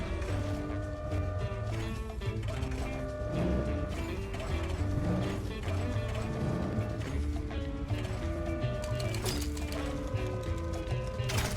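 A crane contraption in a video game whirs and ratchets steadily, its mechanical gear clicks and creaks layered over continuous in-game music and machinery with no pauses.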